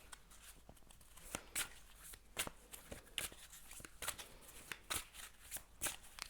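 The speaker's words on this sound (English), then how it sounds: "I'm gonna shuffle and see what the cards have to say." Tarot cards are shuffled by hand in quick, papery riffles and flutters, repeated in uneven bursts and heard close and quiet.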